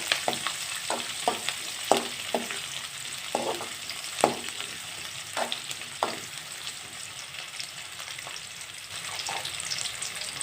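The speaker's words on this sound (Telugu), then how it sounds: "సన్నని ఆనియన్ తరుగు వేసి వేయించుకున్నాము" Thinly sliced onions frying in a pan for coriander tomato rice, an even sizzle under repeated sharp stirring clacks and scrapes, close and moderately loud, with no speech.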